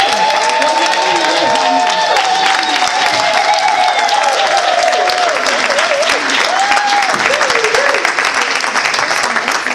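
Women at the Inspired Khaya Inspired Women's Conference clap and cheer loudly and continuously to welcome the founder, while tonal voices, like singing or shouting, rise and fall over the applause.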